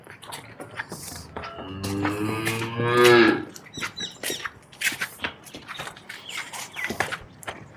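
A cow at a Punjab dairy farm offering cattle for sale moos loudly with a long, drawn-out call in the middle of the clip, close by. Other farm sounds and a few faint voices are heard around it.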